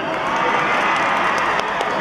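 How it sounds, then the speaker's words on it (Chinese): A crowd at an outdoor Christmas concert and tree-lighting event in New Taipei claps and cheers loudly and steadily for two seconds, a dense wash of applause with shouting voices mixed in. "没有市长，没有演唱会，你们就这点掌声啊？"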